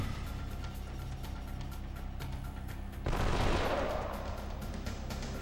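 Gunfire in the video game Wild Arms 3: a brief burst of shots over steady game background sound, with a louder, noisier crack around the third second that fades out.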